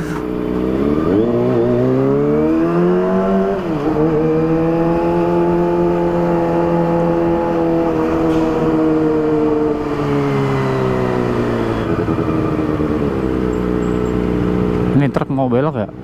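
Loud Kawasaki ZX25R motorcycle engine riding through a narrow alley, its steady high-revving whine rising and falling in pitch and echoing close by, ending in a brief clatter.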